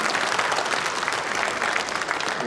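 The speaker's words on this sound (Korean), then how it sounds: "인사하고 들어가시면 박수로 축하해 주시기 바랍니다" Dense, steady applause from an audience congratulating award recipients at an Easter dawn joint worship service in Incheon, filling the whole stretch evenly and loudly without any voices.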